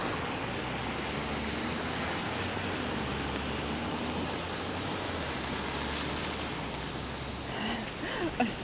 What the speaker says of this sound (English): Wet and nasty rain, yes.